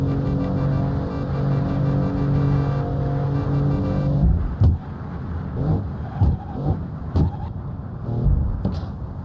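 A BMW F82 M4 engine in the Assetto Corsa racing game drones loudly and steadily, then breaks into choppy bursts of revving and gear shifts.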